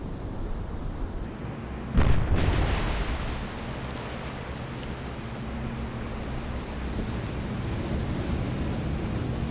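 Naval guns from warships firing in the naval combat game War on the Sea: one loud, booming blast rings out, then fades into a low rumble under a constant ocean-like wash.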